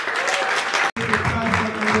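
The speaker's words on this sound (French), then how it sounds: "Est-ce qu'on peut applaudir bien fort pour notre icône?" Audience at the Nzonzing Award ceremony applauding loudly for an honoured artist, steady dense clapping that cuts out briefly near the middle before resuming, with some voices mixed in.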